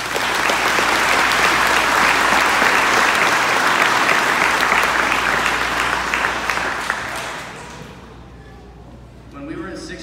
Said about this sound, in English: Can you please give him a round of applause?